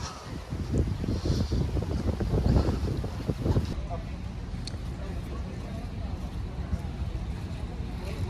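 Cold wind gusts rumble and roar against the microphone outdoors, loud and continuous, easing slightly partway through.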